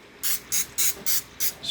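Vegetable oil cooking spray shot into a baking pan in a home kitchen for banana bread: five short, even hissing bursts with brief pauses between, close and fairly loud.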